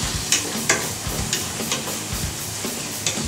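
Cubed meat pieces dropped one at a time into a sizzling pan, a steady fry hiss broken by several sharp bright bursts as each piece lands, close and alone without talk.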